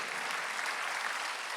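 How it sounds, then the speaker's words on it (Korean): Korean church congregation applauding during a Sunday worship service, a dense, steady wash of clapping that stays loud and even for the whole short stretch with no talk over it. "박수를 치며 하나님께 영광을"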